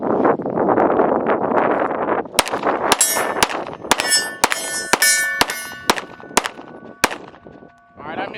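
A Glock 43x pistol fires about a dozen sharp shots at steel targets outdoors, each crack followed by a ringing metallic clang, irregularly spaced, after a stretch of wind noise.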